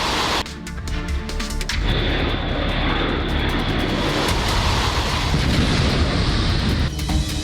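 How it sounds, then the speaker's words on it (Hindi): A US B-52 bomber over Afghanistan gives a loud, continuous, close jet roar that swells and holds for several seconds, with heavy low rumble throughout. "ये कहर अब तालिबानी आतंकियों पर बरपा रहा है अमेरिका का B-52 ये लड़ाकू विमान"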